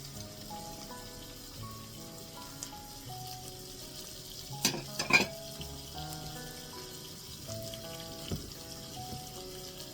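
Squid and vegetables stir-fry in a pan for a spicy Thai red-curry dish, giving a faint, continuous sizzle with a few sharper clatters of stirring midway, while soft tonal sounds linger in the background.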